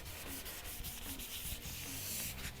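A resprayed car panel is wet-sanded by hand in one direction, giving a steady, close, gritty rubbing scrape that continues unbroken.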